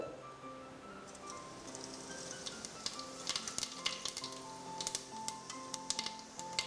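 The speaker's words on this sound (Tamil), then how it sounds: "இதில் சோம்பு கிராம்பு பட்டை கொஞ்சம் பிரிஞ்சி இலை போட்டு தாளிக்க போகிறேன்" Fennel seeds, cloves, cinnamon and bay leaf crackle and sizzle in hot oil, a steady bed of frying hiss with sharper pops and spits growing busier toward the end.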